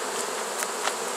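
Honeybees buzz around a wild bee tree during a forced abscond, a continuous close insect drone with the occasional louder bee passing near.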